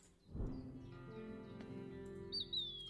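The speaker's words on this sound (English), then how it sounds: "Mississippi kite." A single bird call from the Wingspan board game, presented as a Mississippi kite, sounds as a thin high whistle near the end, faint over soft sustained background music.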